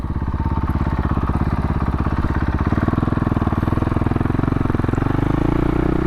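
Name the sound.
motorcycle with Rekluse clutch riding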